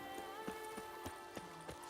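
Horse hooves clip-clop at a slow, steady walk in the Witcher 3 video game, Geralt's horse Roach stepping with evenly spaced, moderately close hoof beats and no voices over them.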